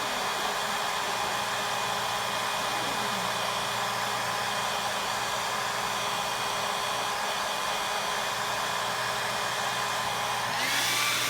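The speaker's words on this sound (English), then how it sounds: "We'll dry with a hairdryer just a tiny bit." Hair dryer blowing steadily on latex wrinkle makeup being dried on a face, a constant close whooshing hum with no pauses, cutting off with a click near the end.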